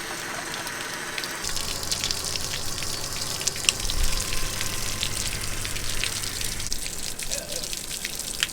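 A campground potable-water spigot pours out water in a bright, splashy, continuous rush with scattered drips and outdoor background noise.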